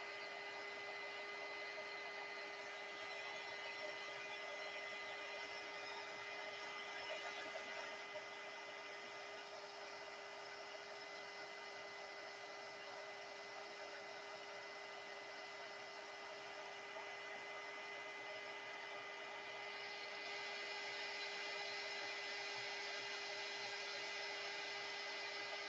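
An embossing heat tool blows hot air onto crayon wax in a steady, unbroken whine with a strong fixed tone, close and constant for nearly half a minute, its pitch shifting slightly near the end.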